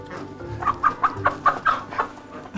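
A hen clucks in a steady series of short, close calls while being handled and checked by hand, about eight clucks in quick rhythm with some faint handling noise underneath.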